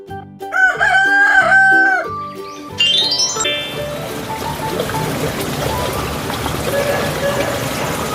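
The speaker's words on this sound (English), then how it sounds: "Rooster." A farm rooster crows loudly and close in a long cock-a-doodle-doo, followed by quieter clucking and background noise; a brief burst of cartoonish tones opens the sound.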